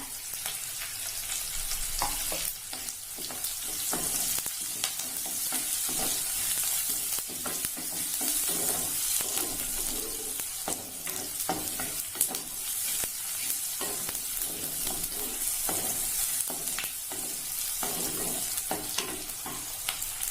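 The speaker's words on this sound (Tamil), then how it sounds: "இதெல்லாம் கொஞ்சம் வதங்கட்டும்." Curry leaves, onion and tomato sauté in a hot pan for a Kerala-style pulinkari, a steady crackling sizzle with repeated scraping stirs throughout, close and moderately loud with no talking.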